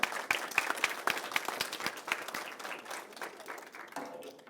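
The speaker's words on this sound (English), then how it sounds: "So one more round of applause, I'm gonna let you go." An audience at a school assembly gives a round of applause, many hands clapping densely and steadily, fairly distant and moderately loud, slowly thinning toward the end.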